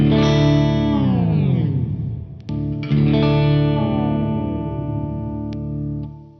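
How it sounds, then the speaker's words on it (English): A sustained distorted guitar chord slowly sinks in pitch and grinds to a halt like a turntable stopping, produced by an effects pedal, then rings out again and winds down once more. "So if we just hear the turntable stop effect"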